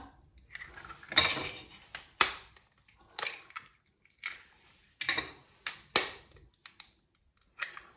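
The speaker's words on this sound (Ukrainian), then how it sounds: "Для початку ми зіб'ємо яйця з молоком." Eggs being beaten with milk in a bowl for lazy khachapuri, heard as a series of sharp clinks and taps of a utensil against the bowl, irregular and close, with no talking.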